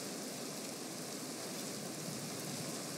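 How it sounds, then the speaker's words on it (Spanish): Steady rain in a sandbox building game, a constant dense hiss of falling water at even volume throughout, with no talking and no distinct drops or thunder. "Pero la lluvia no pasa, ¿eh?"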